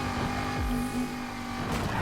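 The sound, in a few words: race car engine in Need for Speed Heat video game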